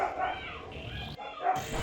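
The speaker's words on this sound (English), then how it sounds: "my dogs are really getting hyped now" Several pet dogs yapping and barking excitedly indoors, close and fairly loud, with short yips mixed under someone talking over a video game.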